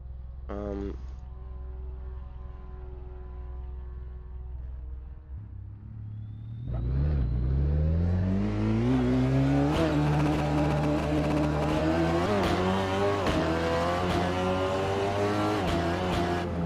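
A SEAT Leon TCR race car in the Assetto Corsa game idles with a low rumble, then revs hard and accelerates through rising gear shifts, its engine climbing in pitch with sharp gearbox clicks and a faint tire squeal, loud and close.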